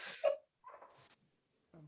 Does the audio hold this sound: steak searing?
no